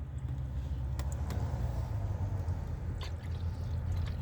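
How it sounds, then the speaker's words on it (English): Air bubbling and gurgling out of a Ford Focus radiator while the cooling system is bled, a steady low churning wash of liquid with a few sharper drips and pops over a continuous engine hum. "You can hear it pushing that air out that radiator"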